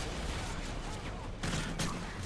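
Modern Warfare 3 gameplay gunfire crackles in a few sharp bursts over a constant noisy battlefield din, with the loudest shots landing near the end.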